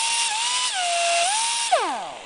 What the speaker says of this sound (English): just a rotary burr, only one I got, but it worked. Kind of keep the rough edges off of there